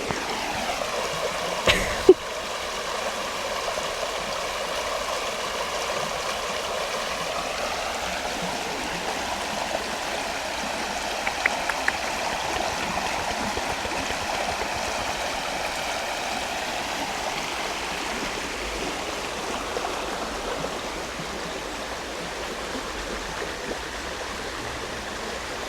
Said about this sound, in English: Let's just listen to the river for a minute.